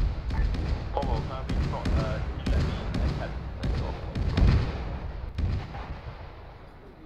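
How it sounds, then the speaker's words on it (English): Heavy howitzer artillery booms in a WW2 video game, a run of loud, sharp blasts with rumbling tails firing every second or so, while people talk over them. "I couldn't hear over the howitzers."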